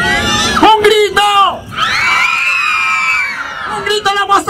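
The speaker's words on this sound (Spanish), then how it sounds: "Un grito." A crowd of children shouts and whoops loudly at a live comedy show, with a long, high, sustained yell in the middle and a quieter voice before and after.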